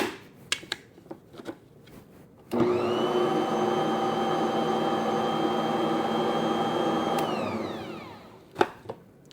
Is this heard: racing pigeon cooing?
no